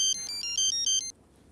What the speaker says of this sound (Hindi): फिर फ़ोन बज रहा है आपका